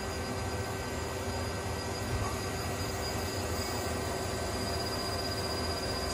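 A Mazak Quick Turn Nexus 100-II CNC lathe spindle runs at 1,000 RPM, giving a steady, even mechanical hum and whine that holds unchanged with no talking.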